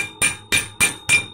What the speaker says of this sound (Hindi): इस तरह पहले ठोक दें